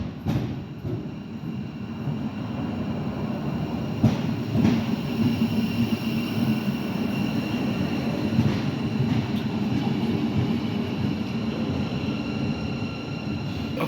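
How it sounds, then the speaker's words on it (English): A train pulls into a station platform in Germany with a steady loud rumble and hum, sporadic wheel clicks and faint metallic squeals, with no talking. "Okay, so the train's here."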